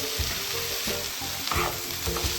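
Green chillies and tomato sizzle loudly in hot oil with ginger-garlic paste for a Kerala-style kadala curry, while a spoon stirs and scrapes through the pan in a steady, close rhythm with no voices.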